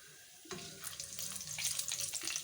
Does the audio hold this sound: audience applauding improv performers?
no